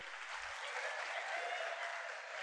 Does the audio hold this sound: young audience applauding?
yes